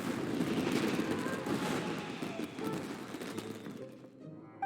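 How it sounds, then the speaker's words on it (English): Fireworks burst in the video game Genshin Impact, a dense run of booming crackling explosions that fades over several seconds into scattered sparkle and quiet. "this is turning into a bit of a fireworks display"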